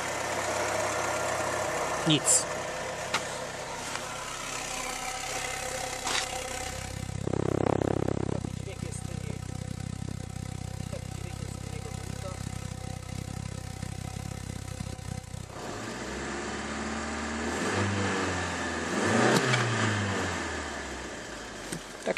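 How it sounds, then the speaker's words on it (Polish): An Opel Vectra A 1.8 engine with a new muffler idles steadily with a low rumble, briefly revving up midway, while a person speaks a word nearby. "teraz praktycznie słychać tylko silnik sam"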